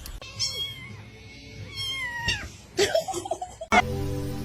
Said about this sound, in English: The cat got his fucking head stuck in the chair.